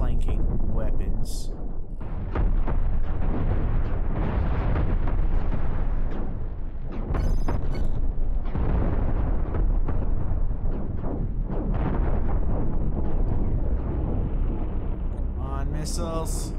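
Missiles exploding in space combat in Cosmoteer, a dense run of loud, deep booms and bursts that roll one into the next with almost no gap, followed near the end by sharper pops.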